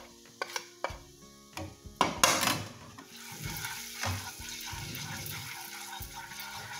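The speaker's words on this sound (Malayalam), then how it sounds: "ഓയിൽ ചൂടാകുമ്പം എടുത്ത് വെച്ചേക്കുന്ന മഞ്ഞൾപ്പൊടിയും മുളക് പൊടിയും ഇട്ട് കൊടുക്കണം" Turmeric and chili powder dropped into hot oil, a few sharp knocks of spoon on pan followed by a sudden burst of sizzling that settles into a steady, moderate frying crackle.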